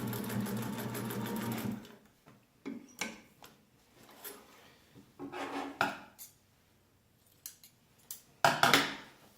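A Singer 99 sewing machine stitches through several layers of denim, a close rattling mechanical run at first, then short bursts of stitching separated by pauses and light handling clicks.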